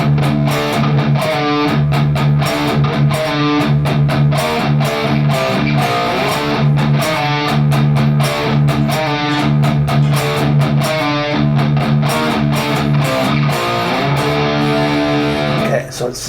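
Loud, heavily distorted electric guitar plays the first riff of a song, a fast chugging metal pattern with dense palm-muted attacks and sustained chords, continuous for about sixteen seconds without talking.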